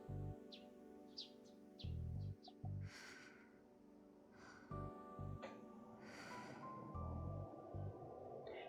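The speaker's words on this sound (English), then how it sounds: "I met the morning with the sound of chirping sparrows" Sparrows chirp in the Chaos Child video game, with short high tweets over soft synthetic tones and a pulsing low beat, quiet and close.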